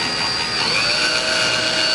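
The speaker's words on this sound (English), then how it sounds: "I am drilling, trying to drill sideways in this." A steady, loud power drill whirs continuously at close range, a high mechanical whine holding without pause.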